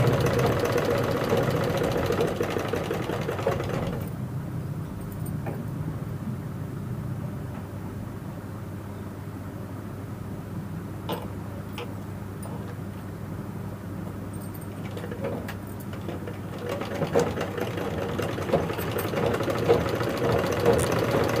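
A sewing machine stitches a double katori blouse at a tailoring class. Its close, steady mechanical hum drops quieter through the middle and then picks back up, with faint clicks and no talk.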